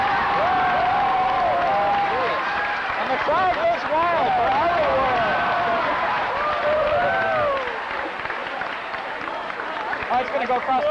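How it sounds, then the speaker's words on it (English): Loud, continuous crowd cheering and clapping at a 1993 MIT autonomous LEGO robot competition as the Orbit Worm robot performs, with excited voices and whistles throughout and a commentator talking over the noise. "And the crowd goes wild for Orbit Worm."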